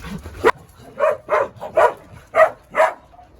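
A dog in Cusco, Peru gives a string of short whimpering yips and barks, about six in quick, uneven succession, close to the microphone.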